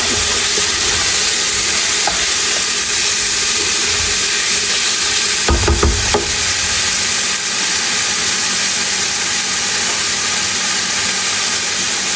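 Garlic and salt are stirred in a hot pan while cooking steak and wine spaghetti. A loud continuous sizzling hiss runs throughout, with a brief cluster of knocks from the utensil partway through and no voices.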